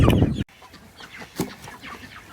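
Meat birds, roosters and hens, cluck in short scattered calls after a loud opening burst cuts off abruptly, the birds sounding moderately near.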